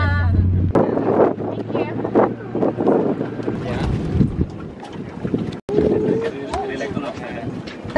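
A fishing boat motors along in Bali with strong wind buffeting the microphone, while people talk loudly over the steady rushing engine and water noise.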